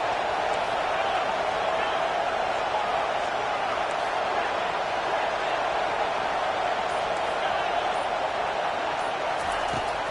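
Stadium crowd noise from the Gridiron Dynasty football video game, Ole Miss against South Carolina, a constant broad roar of a packed crowd held at an even level throughout, with no break or swell.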